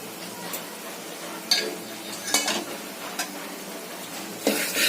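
Ground black pea masala paste being sautéed in a pan for a Malvani-style sambar, a low continuous sizzle broken by several sharp spoon scrapes and clinks against the pan, with no talk.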